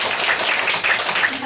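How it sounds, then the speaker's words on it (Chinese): A children's audience at a science show claps in a brief, dense burst of applause. "掌声鼓励"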